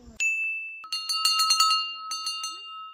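Bells tied with cloth to trees along a steep mountain temple trek path in Chamoli get rung, with one clear ding followed by a quick flurry of bright metallic strikes whose tones ring on, close and fairly loud.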